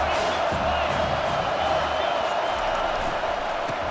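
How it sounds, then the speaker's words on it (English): A stadium crowd in the College Football 25 video game roars in a dense, constant wash of noise, loud and unbroken throughout, with game commentary faintly beneath it. "This crowd trying to make life miserable for this offense."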